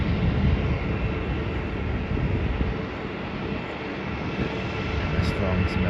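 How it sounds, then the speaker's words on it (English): Rex Airlines Saab 340B turboprop in retro livery taking off on a flight to Burnie, a broad, steady engine roar heard from a distance outdoors, holding level for several seconds. "And the Rex Airlines flight to Burnie is taking off now as well."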